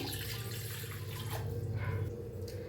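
Water from a glass pours into a pot on a gas stove for masala tea, a short steady close trickle and splash with a low hum beneath, and no talking.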